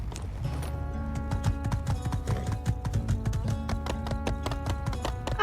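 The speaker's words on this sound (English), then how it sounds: "Horse." Horse hooves clip-clop in a steady trotting rhythm in the video game My Time at Sandrock, fairly close and continuous over a low game background hum, with no talking.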